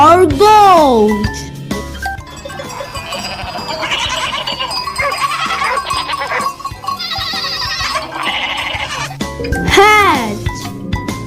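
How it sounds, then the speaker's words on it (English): A goat bleats with a wavering cry at the start and again near the end, clear and close over a bouncy children's song with jingling bells, while a voice sings along. "G for goat"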